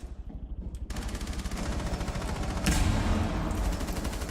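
Sustained automatic gunfire in a tactical shooter game, rounds fired through a wall in a rapid continuous burst that stays loud and close, with a sharper crack near the middle.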